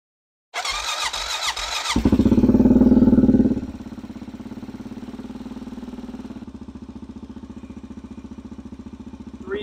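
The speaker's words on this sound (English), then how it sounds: "Let's see what happens if I hit the starter now." A Honda Rincon 650 ATV engine cranks with a high whining starter, catches with a loud roar, then settles into a steady, slightly lumpy idle, recorded up close.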